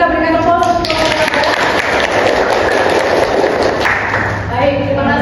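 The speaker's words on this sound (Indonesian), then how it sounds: "Kita berikan aplaus untuk kelompok." Applause for a student group in a classroom: a dense, continuous patter of clapping from many hands, steady and fairly loud across the whole stretch, with a tonal hum running underneath.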